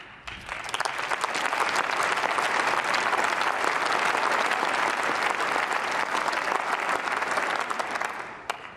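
Audience applause after a speech at a German federal presidential swearing-in ceremony, swelling quickly into sustained, even clapping from a large crowd, then fading out.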